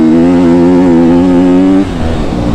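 A KTM 250 SXF dirt bike engine revs loud and close, holding a steady high buzzing drone for almost two seconds before dropping off to a rougher, lower idle.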